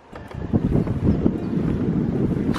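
Wind gusting over open water from a moving boat, a steady rushing roar with low rumble close to the microphone and buffeting it throughout, with no voices.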